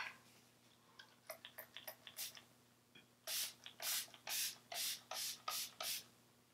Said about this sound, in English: It's a little bit of a harsh mist.